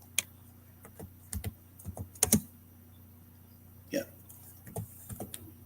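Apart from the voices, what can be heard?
typing on a computer keyboard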